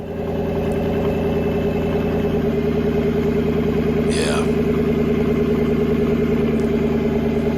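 A Porsche engine idles steadily nearby with a deep, even, throbbing rumble, while people talk briefly over it and one short chirp rises partway through.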